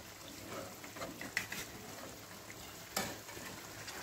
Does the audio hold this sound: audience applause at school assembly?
no